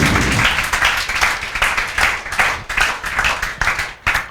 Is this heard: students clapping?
yes